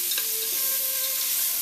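Mushrooms brown in a hot pan with a steady, close, bright sizzle that carries on unbroken.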